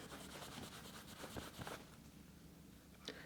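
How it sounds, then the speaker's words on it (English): Rubbing on the rusting blued steel top plate of a captured Russian gun, a steady dry scrubbing friction with short strokes, close and fairly quiet. "So if I take let's take this white area here, and this top plate, I'm going to rub it."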